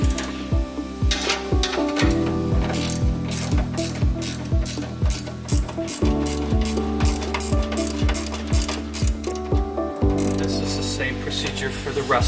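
A ratchet wrench tightens bracket bolts on a RAM Promaster van, rapid clicking pawl strokes in long repeated runs with brief pauses between sets, loud and close.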